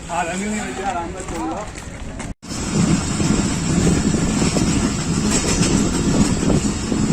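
Hazara Express rolling slowly through a large railway yard at Sarhari in Sindh, steady clattering of wheels over rail joints with a rumbling undertone, preceded by a brief voice and a short cut before the train noise continues.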